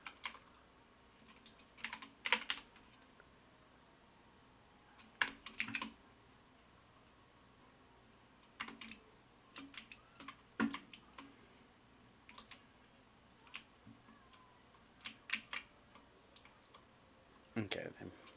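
Typing on a computer keyboard comes through as scattered bursts of quick, crisp key clicks separated by quiet pauses, fairly close and moderately soft.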